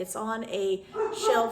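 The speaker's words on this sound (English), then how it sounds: "Sorry, that's my dog." A pet dog barking and yipping indoors in short, close bursts while a person speaks over it.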